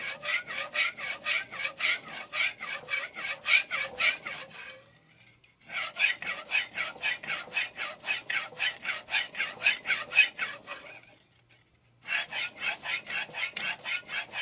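Blade being sharpened on a DMD resin bonded diamond plate: rapid, even rasping strokes in a steady back-and-forth rhythm, in three runs split by two short silent pauses, close and fairly quiet.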